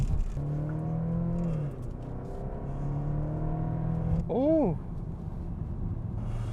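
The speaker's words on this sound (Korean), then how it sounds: "거칠게 소리내는 4기통 사운드가 들리죠." Kia Stinger facelift 2.5-litre turbocharged four-cylinder, rated 304 hp, revving up with a rough, gravelly drone that climbs in pitch, a sudden swooping rise near the end, while a man exclaims briefly over it.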